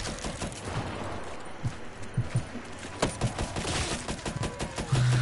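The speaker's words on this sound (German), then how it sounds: "Ich baller hier drinnen in meinem Haus." Rapid gunfire crackles through a zombies video game, with dense bursts and separate sharp shots in an uneven rhythm, loud and close, with no talk over it.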